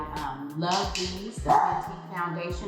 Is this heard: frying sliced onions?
no